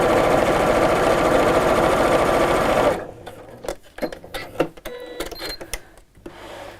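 A sewing machine runs fast and loud, stitching cushion cover fabric close to the piping cord, a continuous whirring clatter for about three seconds before it stops and leaves scattered clicks and handling noises.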